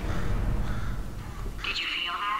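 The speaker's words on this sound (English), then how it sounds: "murder this bird for me?" A single bird caws once inside the video game Portal 2, heard near and fairly clear over a low rumbling game background.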